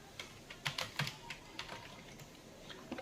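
Someone types a name on a computer keyboard, a quick burst of light, close key clicks in an irregular rhythm, faint and alone with no speech.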